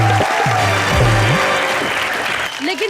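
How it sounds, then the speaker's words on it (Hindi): Studio audience applause on a comedy show fills the stretch as a dense, steady wash of clapping, with tonal music and a voice sounding over it before the clapping thins toward the end. "तो एक बार हमारी जोड़ी के लिए जोरदार तालियां बजा दीजिए।"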